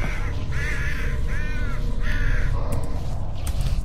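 Crows in the video game Flesh Birds give three harsh, drawn-out caws in a steady rhythm over a constant loud droning game background. A shorter, fainter call follows near the end.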